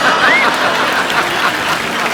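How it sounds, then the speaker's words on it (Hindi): Studio audience clapping on a Hindi comedy talk show, a short dense burst of applause with a faint whistle at the start, loud and continuous throughout. "अच्छा, तालियां।"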